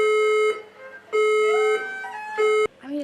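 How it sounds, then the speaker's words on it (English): A fire alarm sounds in three long, loud tonal bursts with short gaps, and a voice is heard briefly at the end. "the fire alarm went off"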